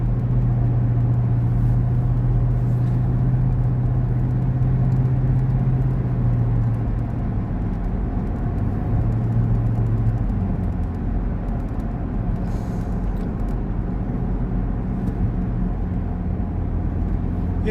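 Steady highway traffic roar with trucks passing, a low engine drone holding for several seconds then fading into continuous broadband road rumble, fairly loud and close, with no voices.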